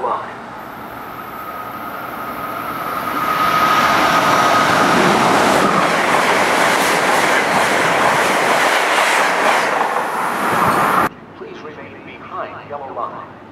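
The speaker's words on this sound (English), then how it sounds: "Train approaching. Please remain behind yellow line." An Amtrak train rumbles loudly through Mansfield station, steady roar with rattling wheels for about ten seconds, then cuts off to quieter ambience.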